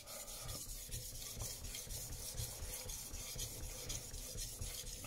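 A Global knife is drawn back and forth across a whetstone in a steady run of quiet, gritty rasping strokes, close up with no talking.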